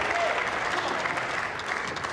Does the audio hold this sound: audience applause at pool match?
yes